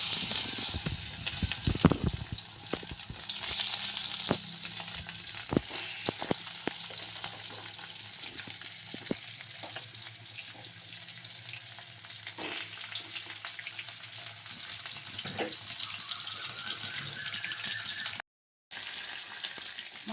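Four pieces of snakehead fish, rubbed with salt and turmeric, fry in hot oil with a continuous close sizzle. Occasional utensil clatters and stirring sounds break in, and a brief gap of silence falls near the end.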